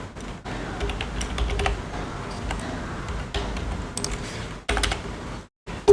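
Quick bursts of keystrokes on a computer keyboard while searching for Explorer in Windows 11 tap out an uneven rhythm, close and moderately loud, with brief pauses and a short gap near the end.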